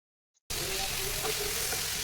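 After a brief silence, mango thokku with mustard seeds and fenugreek powder starts sautéing in a pan, giving a sudden, steady, close frying hiss that holds to the end.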